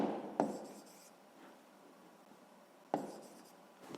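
Handwritten notes scratched out with a pen or pencil during a sixth-grade maths exercise on area, with soft faint strokes and two sharper taps of the writing tool against the paper, quiet and close.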